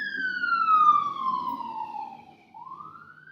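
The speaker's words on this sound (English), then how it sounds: "sirens." A single emergency vehicle siren wails in a long descending sweep, then dips and starts rising again, heard at moderate distance over low background rumble.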